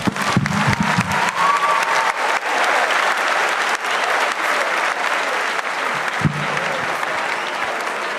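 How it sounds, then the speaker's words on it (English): A crowd applauds after a speech on financial literacy and Ghana's Securities and Exchange Commission, loud continuous clapping from many hands with scattered cheers, sustained throughout. "Let's give another huge round of applause"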